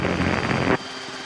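A Rotorway light helicopter's steady rotor drone, loud and close while flying near a runway, cutting out abruptly partway through, leaving a quieter engine hum.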